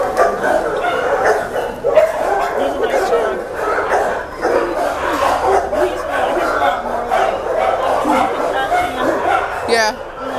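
Dogs bark and yip excitedly close by through a fence, a busy overlapping chorus with people talking over it throughout.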